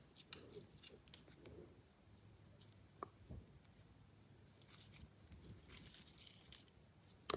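Scissors snip through crochet yarn near a Christmas crochet decoration, a few soft, quiet cuts with faint rustling handling sounds between them.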